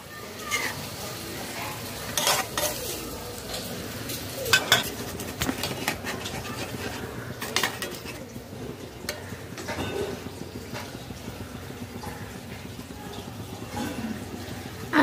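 A spoon stirs powdered milk into an cup of lightly warm water in a cooking pot, with scraping and clinking against the metal that keeps going in uneven strokes, near and fairly quiet, with a few sharper knocks.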